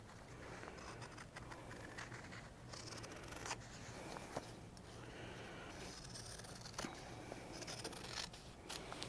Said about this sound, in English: we are going to cut on our lines